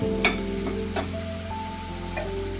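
Spices with turmeric, salt and green chillies frying in a pan for a Bengali potato and egg curry, a steady low sizzle with a few stirring clicks and scrapes, close and alone.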